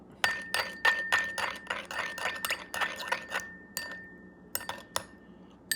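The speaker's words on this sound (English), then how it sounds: "soy sauce, mirin. I'm going to mix them up." Utensil whisking soy sauce and mirin in a glass bowl, rapid ringing clinks in a quick run, then slower scattered taps, close and fairly quiet.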